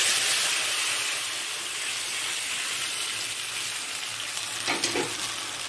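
Taro pieces frying in a wok, a continuous hissing sizzle close by, with a brief stir or clatter near the end and no talking.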